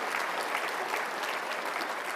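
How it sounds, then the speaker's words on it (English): Steady audience applause at a keynote talk, a continuous wash of many hands clapping at moderate, even loudness, with no speech over it. "Can we just give an applause for them?"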